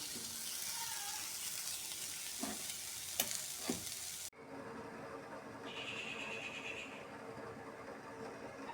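Fish frying with masala, salt and turmeric in a pan, a soft steady sizzle with a few scraping stirs, then a cut to a quieter hiss with a faint higher whine.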